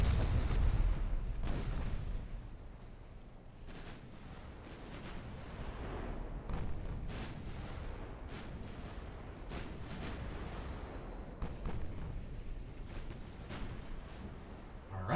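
Main guns of a warship fleet fire in the naval battle game Ultimate Admiral Dreadnoughts, a steady barrage of heavy booms and blasts rolling over a continuous low battle rumble.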